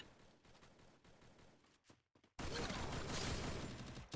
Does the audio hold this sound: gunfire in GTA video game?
yes